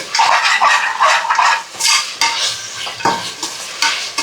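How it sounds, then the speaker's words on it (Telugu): Onions frying in a pan for chicken pulao, with a spoon scraping and stirring in repeated close strokes over a soft background sizzle, loud and without talk. "ఎర్రగడ్డ కొంచెం వేగాలి"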